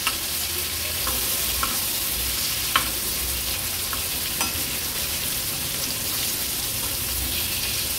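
Pieces of karli fish shallow frying without any coating in a pan over low to medium flame give off a steady close sizzle and hiss, broken by a few faint crackles and pops.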